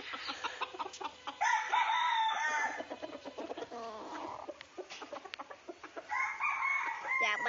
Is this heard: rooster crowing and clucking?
yes